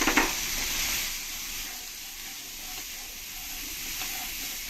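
Ginger-garlic paste and ground spices such as cumin and coriander fry in a pan for a drumstick and coconut milk curry, giving a steady close sizzle with a brief stirring clatter at the start.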